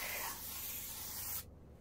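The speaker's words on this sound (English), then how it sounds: "hung the wheel and sprockets up and gave them a good spray paint in black" Aerosol spray paint hisses in a steady, close, continuous burst as a bike wheel and sprockets are coated black in a small farm lean-to shed, then cuts off abruptly near the end.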